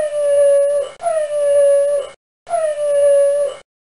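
A dog howls in three long, wavering cries separated by short pauses, each a clear sustained tone sliding slightly downward, close and loud with nothing else beneath it, reacting to ultrasound.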